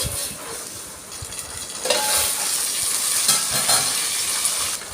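Sliced onions and long-cut green chillies fry in hot oil for a restaurant-style chicken handi, a steady close sizzle with occasional stirring scrapes, growing slightly louder after the first two seconds.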